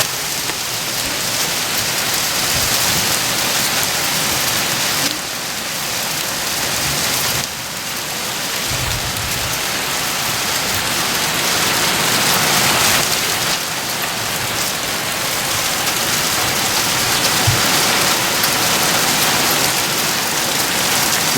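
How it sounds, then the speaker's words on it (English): Loud, dense downpour drumming steadily on surfaces at a farm, a heavy hailstorm with rain roaring continuously, with no voices. "It's actually hail. There's hail coming down."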